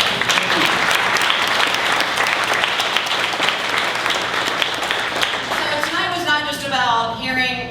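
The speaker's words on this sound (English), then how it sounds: "Let's give them also a round of applause." A sustained round of applause from a civic meeting audience against hate, dense and steady throughout, thinning slightly near the end as a voice begins to come through.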